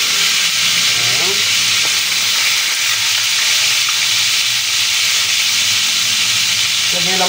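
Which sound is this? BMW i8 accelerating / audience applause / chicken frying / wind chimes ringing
chicken frying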